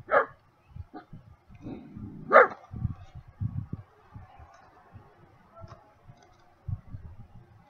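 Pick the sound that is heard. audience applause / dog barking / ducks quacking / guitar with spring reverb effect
dog barking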